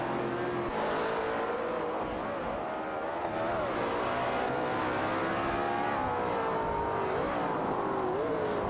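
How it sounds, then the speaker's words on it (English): Engines of a Bugatti Veyron and a Ferrari 812 Superfast drone loudly and continuously in a video game race, rising and falling in pitch with acceleration and gear changes. Other cars add a dense wash of engine noise. "Both are driving impressive cars, a Bugatti Veyron and a Ferrari 812 Superfast."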